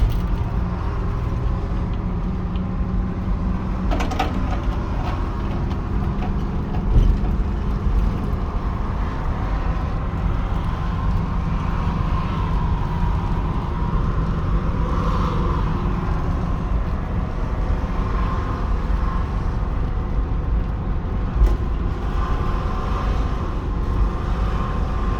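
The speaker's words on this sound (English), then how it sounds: "first gear, second gear transition in a 1948 GMC PD3751 coach" Engine of a 1948 GMC PD3751 coach driving down a street, a steady loud low drone with shifting tones as it moves from first to second gear, continuous and close throughout.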